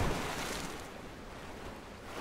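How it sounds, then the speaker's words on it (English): A splash into water in Rise of the Tomb Raider, heard as a dense, rushing wash of noise that starts strong and eases into a steady watery roar, with no talking over it. "I guess we have to jump into water."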